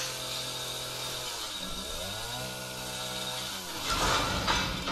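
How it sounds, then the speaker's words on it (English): A chainsaw runs in Resident Evil 7, its engine note holding steady, then dipping and revving back up, loud and close with no talk over it. "No, he's just holding a chainsaw."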